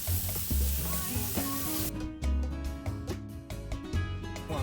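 Square-cut pork ears grilling after basting with a soy sauce, calamansi and spice marinade, giving a steady, loud, close sizzle and crackle that carries on throughout with no talk.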